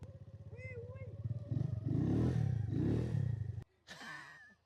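A motorcycle engine chugs and revs up close during a ride, its throbbing idle rising into a louder roar, cutting briefly and then restarting, with people talking alongside.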